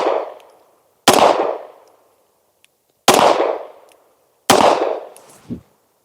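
Three loud, sharp shots from a 9mm pistol firing 115-grain remanufactured ammunition, evenly spaced about two seconds apart, each ringing off with a fading echo outdoors.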